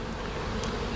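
Honeybees in a beehive give a dense, continuous buzzing hum, close and steady throughout this short moment.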